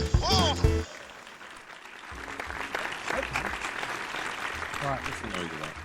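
Applause rises after a loud voice and carries on as broad, steady clapping for several seconds, with voices talking over it near the end.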